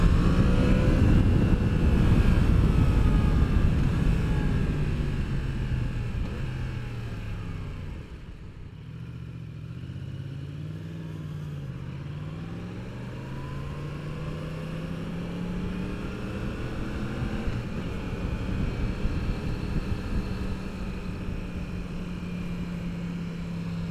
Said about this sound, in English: here's an example of us going 50 miles an hour in traffic, which is pretty regular